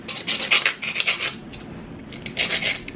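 Scraping tomato pulp off a plate while making fresh garden tomato juice: rasping, rubbing scrapes in short bursts close by, a pause in the middle, then another burst.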